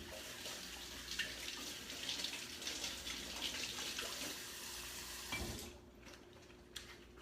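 Tap water runs steadily over organic greens being washed in a sink, a continuous rushing stream that fills most of the clip before cutting off near the end, leaving faint handling sounds.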